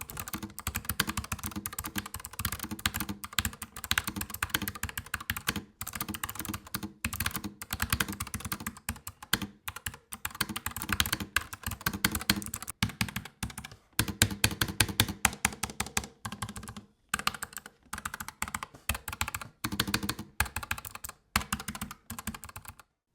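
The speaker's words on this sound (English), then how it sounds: "you have a much more deeper or lower range feedback sound, so it's not as chiclet type as some other low profile mechanical keyboards" A NuPhy Air 75 low-profile mechanical keyboard being typed on, with fast, continuous clacking keystrokes that have a deep, low tone, broken by a few short pauses over about twenty seconds.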